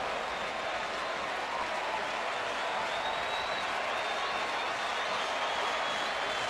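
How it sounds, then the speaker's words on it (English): Crowd noise at a 2007 Cleveland Indians ALDS baseball game, a steady dense roar of fans cheering and clapping throughout, broad and fairly far off with no clear pauses. "Indian crowd hanging on every pitch."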